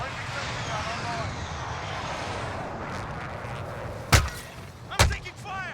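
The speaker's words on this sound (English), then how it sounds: "Be advised, friendly precision airstrike inbound." Precision airstrike in a military shooter video game: two sharp, loud explosive blasts about a second apart near the end, preceded by steady roaring game ambience with engine drone, with faint chirpy effects after.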